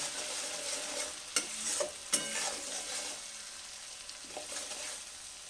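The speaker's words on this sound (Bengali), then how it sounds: "এবার এটাকে মশলাটাকে ভালো করে একটু কষতে হবে" Spice paste with fenugreek leaves stir-fried in a pan for ilish makhani, a quiet sizzle broken by sharp utensil clacks and scraping stirs.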